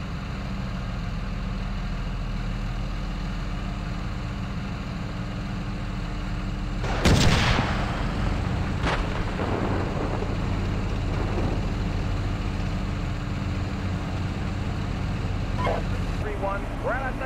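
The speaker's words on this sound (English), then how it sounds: "taking fire here" Incoming fire strikes a tank in the Steel Beasts game with a sharp loud bang and a second crack, followed by scattered smaller impacts over a constant low engine rumble, with talk in the background.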